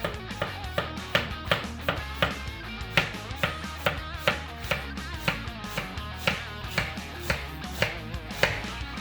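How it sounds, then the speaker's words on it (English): Knife slicing a head of cabbage as thinly as possible for homemade sauerkraut, a steady run of crisp, close chops on a cutting board with no talk. "so we have our cabbage. We're going to cut this as thin as possible"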